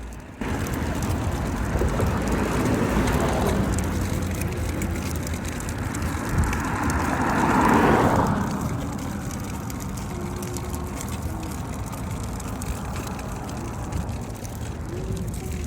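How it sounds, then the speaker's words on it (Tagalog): Street traffic rolls past in a steady roar, with one car swelling louder as it passes close by around the middle before the hum settles back. "So pakinggan nyo na lang muna yung mga tunog ng sasakyan guys"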